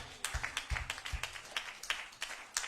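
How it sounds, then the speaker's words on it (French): A congregation claps during Sunday church praise, a faint, rhythmic run of sharp hand claps, some slightly uneven, repeating steadily with no talking over them. "On nous applaudit mon Dieu"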